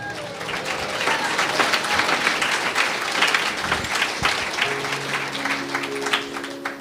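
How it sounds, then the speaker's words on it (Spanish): A church congregation at a Quechua-language service claps in dense, continuous, fairly loud applause throughout, with sustained musical tones entering near the end. "Fuerte aplausos a Cristo."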